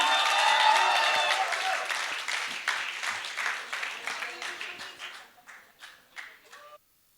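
Applause from a large crowd at a Hero music concert for Sooraj Pancholi and Athiya Shetty rises under a sustained cheer or musical tone, then thins into scattered separate claps that fade out.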